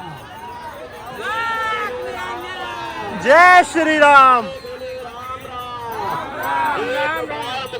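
A dense crowd of pilgrims packs a river ghat at the Prayagraj Mahakumbh on the Basant Panchami bathing day, a steady babble of many voices with chanting and one louder call rising briefly mid-way.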